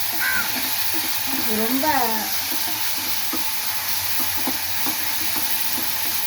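Onion, ginger and garlic sizzle and fry in hot oil for a kugal kuzhambu, a steady close crackling hiss running under a person talking.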